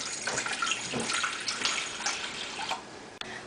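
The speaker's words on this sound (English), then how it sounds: "turn on the stove and pour in some water" Water pours into a pot on a stove, running and splashing steadily for a few seconds, a continuous pouring hiss with a small clink near the end.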